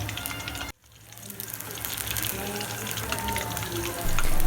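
Lahori-style fish frying in hot oil over a high flame, a loud, dense, continuous sizzle that briefly drops out and then builds back, with a voice speaking over it.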